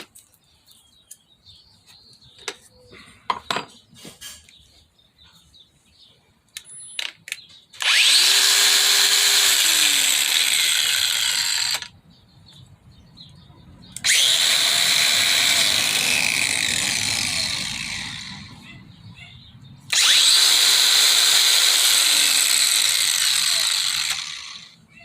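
A Bauer grinder fitted with a Harbor Freight Warrior sanding pad takes rust off an old smoker: three loud, close bursts of harsh abrasive grinding, each a few seconds long, separated by short pauses, after some scattered clicks and handling noise.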